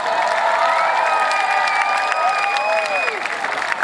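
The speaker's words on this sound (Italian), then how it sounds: "Un bel applauso per i King Gold Quartet." Festival audience in Bauladu applauding and cheering for the King Gold Quartet, a steady wash of clapping with whoops and voices from a large crowd, loud and continuous throughout.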